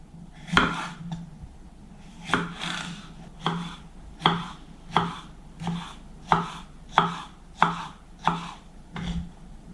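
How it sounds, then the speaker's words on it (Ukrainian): Steady knife chopping of vegetables into cubes on a cutting board, about a dozen crisp thuds in an uneven rhythm with short pauses, close and fairly loud, no talking. "Овочі я помила, тепер нарізаю кубиком."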